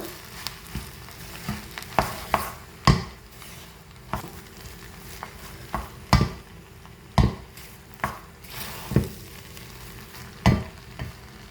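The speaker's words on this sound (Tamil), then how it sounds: "நல்ல வடிவாக மிக்ஸ் பண்ணி விடுங்க" Chicken kothumai being stirred and mixed in a sizzling pan, with a steady fry under repeated sharp scrapes and knocks of the spoon roughly every second, close and alone.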